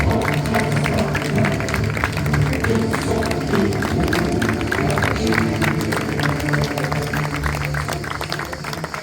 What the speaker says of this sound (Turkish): daha kuvvetli bir alkış bekliyorum.